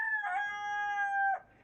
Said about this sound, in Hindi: ये मुर्गा, बल्कि सब मुर्गे बहुत शोर मचा रहे थे सुबह सुबह